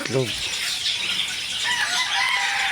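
A hen cackles near the start, giving a short run of loud, close clucks, then busy background noise continues after it lays eggs.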